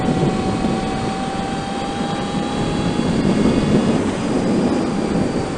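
A light all-electric Zener-Ecite 2020 trike accelerates from 60 to 70 mph on the highway, a loud, steady roar of wind rush layered with thin, sustained electric motor whine tones, continuous throughout with no speech.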